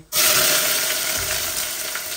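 Onion dropped into a pot of hot oil for a chicken bhuna, bursting into a loud, close sizzle that holds steady and eases slightly as it cooks, with no voices.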